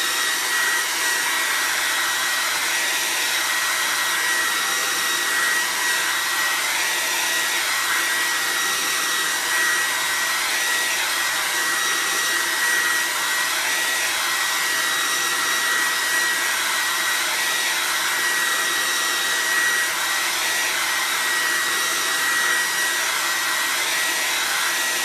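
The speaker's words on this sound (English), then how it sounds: "I am going to take a touch of heat to it just to get this nice and fully dried up." Heat tool blowing steadily to dry a chalkboard, a continuous high-pitched whirring hiss close by with no pauses.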